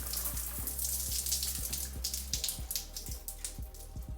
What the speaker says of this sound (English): At this point, we're gonna open the water